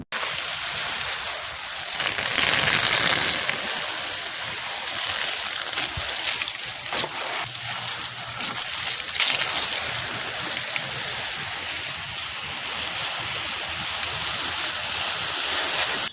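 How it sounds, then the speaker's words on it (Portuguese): Water poured over an orchid growing on a wooden log, a continuous trickling and splashing stream running for the full length at fairly close range, with no talking. "Veja como a água sai rapidamente e só o que vai ficar aí no tronco é a quantidade necessária para a orquídea."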